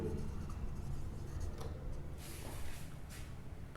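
Writing on a classroom board during a maths lesson on angles: a steady scratchy rubbing over a low room hum, with a few brighter strokes near the end.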